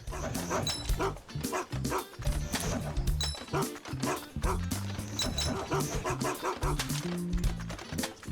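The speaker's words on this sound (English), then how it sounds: "I hear the dog barking, but I don't see the dog barking" A small cartoon dog barks and yips repeatedly in the Garfield Lasagna Party video game, quick bursts over busy game music and effects.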